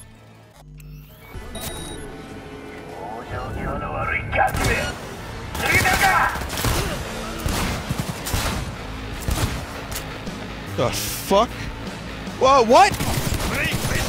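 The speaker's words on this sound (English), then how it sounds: "I need to shoot something with my new gun that I finally am able to use." Gunfire from a new gun in the Cyberpunk 2077 game, a spread of sharp shots and bursts scattered through the stretch alongside game effects, with a voice speaking briefly over it.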